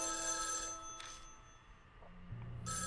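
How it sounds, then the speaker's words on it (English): A telephone rings from the neighbouring room in the horror game Spirit Hunter: NG, giving repeated bright electronic trills that sound slightly muffled, with a brief gap between bursts. "Suddenly, the phone from next door rings."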